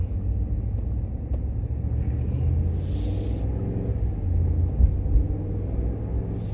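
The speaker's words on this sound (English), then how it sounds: "I'm just gonna ride through the high school road and just ride through." A car driving along a road past a high school: a steady low engine and tyre rumble from inside the vehicle, continuous and fairly loud, with a brief hiss partway through and no talk.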